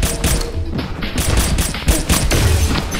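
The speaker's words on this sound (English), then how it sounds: "Hold on, that shotgun is OP." Rapid shotgun blasts and chaotic gunfire from the online shooter game Pixel Gun 3D, PC edition, dense and loud throughout with repeated sharp booms and clattering effects.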